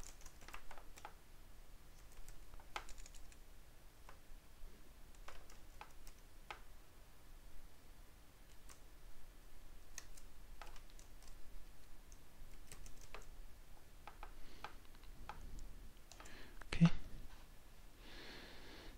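Quiet keystrokes on a computer keyboard as a command is typed, a steady run of soft individual clicks with brief pauses, ending with a sharper key press like an Enter.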